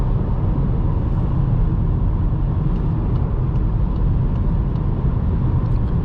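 A 2020 Volkswagen Golf 8 accelerating on cruise control during a night drive, heard from inside as a steady, loud low rumble of engine and road noise that holds even throughout, with no talking.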